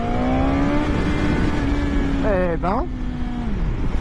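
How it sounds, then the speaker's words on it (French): A 2021 BMW S1000 XR motorcycle engine rises in pitch under hard acceleration, then shifts gear and climbs again amid wind rush, with a rider briefly talking over it. "là, ça accélère fort"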